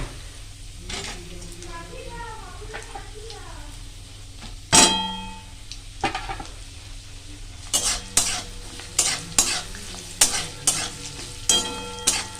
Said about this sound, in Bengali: নারকেলগুলো একটু লাল করে ভেজে নিই।